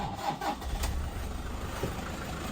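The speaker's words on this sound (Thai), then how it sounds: "มาฟังเสียงเครื่องยนต์" A Toyota Vigo 2.5 pickup truck engine cranks and starts up close, then settles into a steady, smooth idle rumble.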